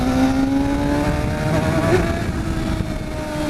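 A 2013 Kawasaki ZX6R motorcycle engine climbs steadily in pitch as it pulls through the power band, a loud, continuous close-up roar with rising harmonics and no talk.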